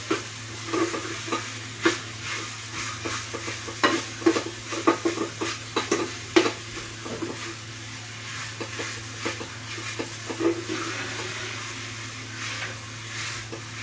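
Kofta curry masala stirred and fried in a pan, with a steady low sizzle and repeated scraping, clinking spoon strokes spread irregularly through the clip, closer and louder in the first half and no talking.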